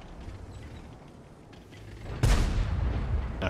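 Artillery fire in a video game: a sudden heavy boom lands partway through, following a low, rising rumble, and the blast's roar lingers to the end.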